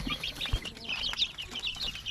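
Shamo aseel chicks peep and cheep in a steady run of high, thin calls, fairly close and moderately loud, with no talking over them.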